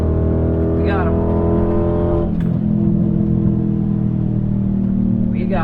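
A cammed Dodge Challenger R/T at a drag race against an Infiniti Q60 gives a loud, continuous engine drone with rising gear pitch sweeps, heard close and under talk.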